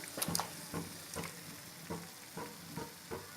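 Marinated chicken frying with spices in a pan, a soft sizzle under repeated rhythmic stirring scrapes at roughly half-second intervals, fairly quiet and close, with no voices.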